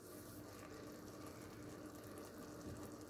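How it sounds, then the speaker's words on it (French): Boiling water from a new kettle pours into a pot of lentils and sweet potato, a faint, continuous splashing trickle heard alone. "je rajoute mon eau et de l'eau bien bouillante"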